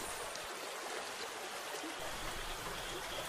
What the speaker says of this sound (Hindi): यहाँ कहीं नीचे पानी बहता है क्या?